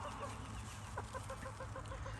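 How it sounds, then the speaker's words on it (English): A small Seabright hen clucks in a rapid run of soft, evenly spaced notes on a cold morning, faint and close, over a low steady background hum. "Right there's the other little Seabright."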